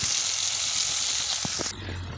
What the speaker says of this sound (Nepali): अब चाहिँ म प्याज हाल्दैछु।